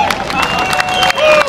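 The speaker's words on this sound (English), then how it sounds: "Give him a round of applause" A large crowd at an outdoor gun-rights rally at the Oregon State Capitol applauds and cheers in a dense, loud, continuous wash of clapping, with a faint steady tone ringing underneath.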